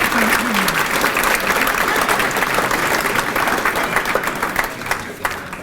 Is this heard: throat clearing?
no